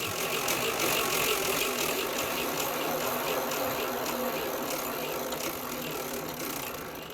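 A motorised twin spin wheel in a home arcade, outer wheel only, runs under remote control with a steady mechanical whir and a fast ratcheting tick throughout, fairly close and even in level.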